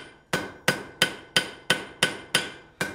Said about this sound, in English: I'm pulling my piece of steel in and out through my hammer, pretty much keeping my hammer in the same place.